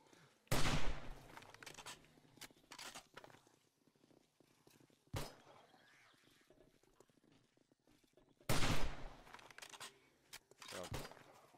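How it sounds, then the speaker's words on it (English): Pistol gunfire in the video game 7 Days to Die: four loud, sharp shots spaced irregularly several seconds apart, each followed by a brief decay over a low, quiet background. "Pop some with my pistol."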